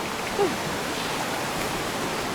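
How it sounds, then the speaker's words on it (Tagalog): Steady broadband rush of a waterfall at Taytay Falls in Majayjay, Laguna, a continuous even roar with no breaks, with one brief faint tonal sound near the start. "Waterfalls. Waterfalls."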